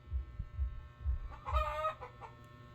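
A chicken clucks in a string of low, repeated calls, then lets out a louder, drawn-out cackle near the end. The bird sounds close by with no talking over it.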